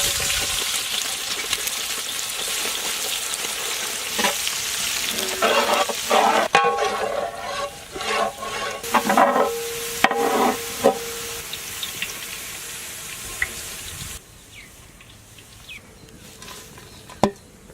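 Chopped onions frying in hot oil for a traditional mutton biryani, with a steady hiss and crackle, stirring scrapes and clatters in the middle, and a quieter sizzle toward the end.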